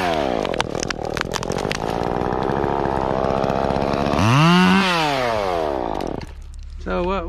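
A chainsaw cuts through a tree limb, its engine revving loud and close with a steady high whine, surging to a strained peak before dropping off near the end.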